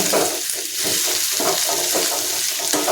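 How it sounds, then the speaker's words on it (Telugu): Boiled prawns fry in a hot pan while being stirred, giving a loud, steady crackling sizzle with repeated scraping strokes of the stirring throughout, and no voices. "రొయ్యలు ఉడికినాయి కాబట్టి తొందరగా వేగిపోతుంది"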